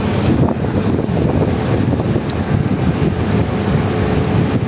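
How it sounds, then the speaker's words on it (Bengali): Steady engine rumble of a ferry crossing the Padma river, mixed with constant wind buffeting the microphone, a broad continuous roar with no speech. "শেষমেশ ফেরিতে এসে উঠলাম এবং ফেরিটা ছেড়ে দিয়েছে"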